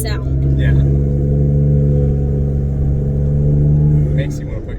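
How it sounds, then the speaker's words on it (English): A Ford EcoBoost truck fitted with a cold air intake accelerates with a steady, loud low engine drone and rising turbo whoosh from inside the cab, with people talking over it. "The turbo sounds are a little more pronounced now, and everything feels honestly a little sharper overall."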